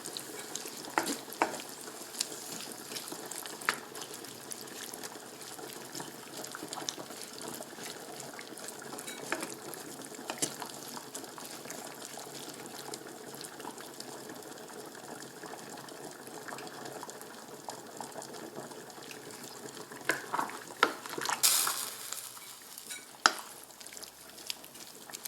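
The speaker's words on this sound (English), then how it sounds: "Give it a little bit more of a stir." A spoon stirs tomato basil pasta sauce in a pan, giving a steady soft sizzle with faint scraping and liquid movement across the whole stretch, plus a few brief louder clinks near the end.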